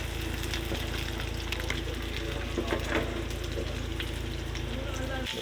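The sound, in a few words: sautéing squid balls for pancit in a pan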